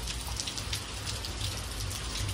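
Steady rain falls continuously in an even, hissing patter on surfaces nearby, with no voices or breaks.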